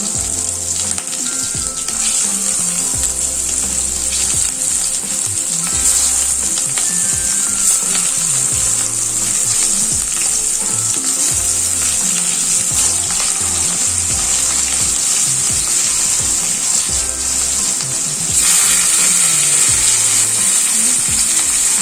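Sliced kakrol, spiny gourd, frying in oil to golden brown, a continuous close sizzle that stays dense and even throughout with low occasional knocks beneath it.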